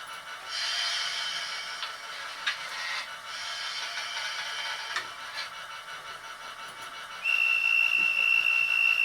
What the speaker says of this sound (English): It's kind of a large, a long guard's whistle.